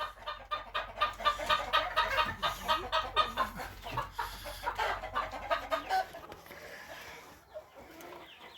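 Chickens cluck in a rapid, busy chorus inside a plastic-covered wooden frame greenhouse with a dirt floor, loud and close at first, then thinning out toward the end.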